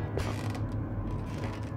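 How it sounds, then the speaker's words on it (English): A front door creaks open slowly in a horror story sound effect, giving a drawn-out grinding creak with small uneven stutters, close and alone. "we heard the front door opening."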